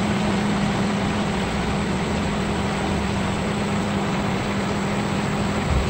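A Pentair Intelliflo variable speed pool pump runs steadily on a speed program, giving a constant motor hum with a low tonal drone and broad whirring noise, close and unbroken throughout.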